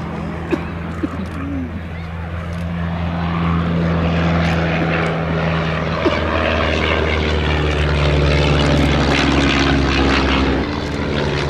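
A Miles Magister, a vintage 130-horsepower propeller monoplane at an airshow, drones steadily overhead, its engine note swelling and holding loud across the whole stretch, with crowd murmur faintly beneath.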